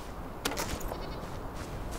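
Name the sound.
goat bleating in the video game Enshrouded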